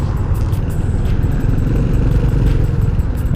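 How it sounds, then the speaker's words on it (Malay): A Honda Dash motorcycle riding through city traffic in Kuala Lumpur, with a loud, steady engine drone and wind rumble that is close and continuous throughout. "Masih lah naik motor ni Honda Dash."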